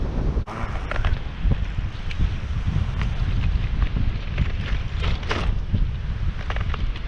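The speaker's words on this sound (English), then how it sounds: "Anyway, kind of windy today." Wind buffets the microphone while riding a mid-drive electric bike along the San Diego waterfront. Steady rushing noise with uneven low gusts and thumps throughout, and no talking.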